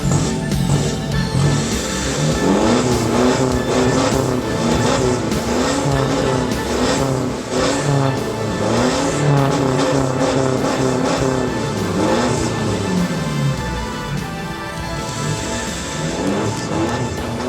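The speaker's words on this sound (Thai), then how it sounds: "ฟังเสียงท่อกันบ้างนะครับ" An Isuzu four-door pickup truck's engine revs repeatedly through a loud aftermarket exhaust, rising and falling in throaty bursts, close and continuous.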